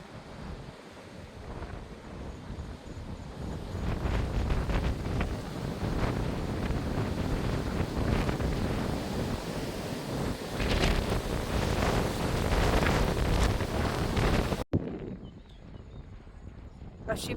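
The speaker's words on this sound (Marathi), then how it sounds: "इथे असा उलटा वारा येतोय त्याच्यामुळे त्याचा आवाज बघा कसा वाटतोय तो." Strong coastal wind buffets the microphone in a steady roar through most of the stretch at a village on the Konkan coast near Ratnagiri, with surf-like rushing underneath, before cutting abruptly to a quieter tail near the end.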